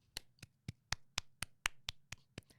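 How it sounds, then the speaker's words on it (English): Eleven evenly spaced hand claps from one person, close and fairly quiet, in a steady rhythm with no talking. "Round of applause."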